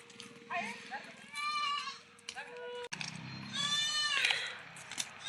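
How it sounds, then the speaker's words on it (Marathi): Young goat kids bleat repeatedly from a farmyard goat shed on a cold morning, with wavering, high-pitched cries arriving in a few close, loud bursts. "करडं पण ओरडायला लागले"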